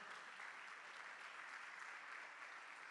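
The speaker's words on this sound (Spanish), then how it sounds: "Dale un fuerte aplauso a nuestro Dios, hermano." A church congregation applauds in a dense, steady wash of clapping that fills the whole moment at even strength, with no distinct voices above it.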